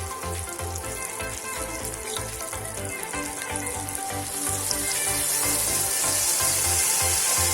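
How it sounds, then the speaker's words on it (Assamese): Mustard seed paste hits a hot pan for fish curry, setting off a steady, loud, close sizzle that grows fuller and hissier toward the end, with no talk over it. "এতিয়া আমি সৰিয়হৰ পেষ্টখিনি ইয়াত দি দিম।"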